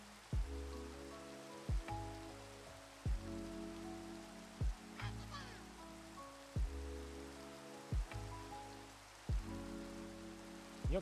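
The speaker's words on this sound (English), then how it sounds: "You're not kidding with this rain." Steady rain patters throughout a Pokémon Kanto building game, a continuous wash of drops under looping background music with regular soft thumps and no talking.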